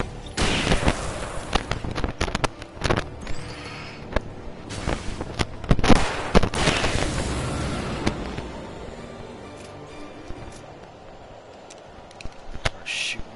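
Repeated sharp shots from a flare gun in the video game Alan Wake Remastered, set in a dark wooded area, bursting loud and irregular over a tense, noisy backdrop with a gap of quieter rumble before a few last pops.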